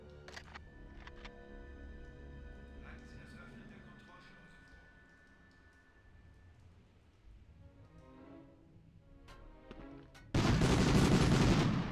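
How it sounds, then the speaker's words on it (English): Enemy gunfire crackles in scattered shots in the Medal of Honor video game, over a low rumbling background, before a grenade explosion erupts loud and close near the end. "They're getting ready to throw a grenade."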